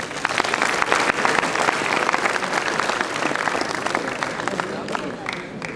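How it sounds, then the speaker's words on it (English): Audience at a college entrepreneurship festival at Dayananda Sagar College of Engineering bursts into dense, sustained applause, loud and steady before slowly tapering, with voices mixed in. "Please give a huge round of applause."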